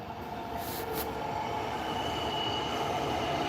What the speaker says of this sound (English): Didn't get away from the trains though.